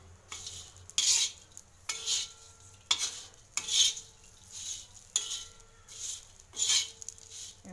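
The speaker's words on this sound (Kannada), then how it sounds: "ಅಚ್ಚ ಖಾರದ ಪುಡಿ ಹಾಕ್ಕೊಂಡು ಮಿಕ್ಸ್ ಮಾಡ್ಕೊಳ್ಳೋಣ" Okra being tossed and mixed with chili powder in a pan for a tawa fry: bursts of rough stirring and scraping in regular rounds, separated by short pauses, over a faint sizzle, close and unaccompanied by talk.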